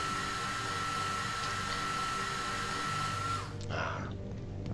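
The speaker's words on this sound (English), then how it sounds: "Can use the hand dryer, that's good." A hand dryer in a restroom in Deus Ex: Human Revolution blows with a steady, loud whooshing roar, then cuts out near the end with a short winding-down hiss.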